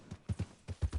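In Red Dead Redemption 2, a horse's hooves strike in quick paired thuds, three doubled beats within a second, low and fairly close against a quiet game background.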